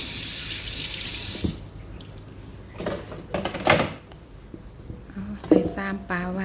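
Water runs from a tap into a kitchen sink as a peeled gourd is washed, a loud rushing burst at the start followed by quieter splashes and handling clatter, with a voice speaking nearby.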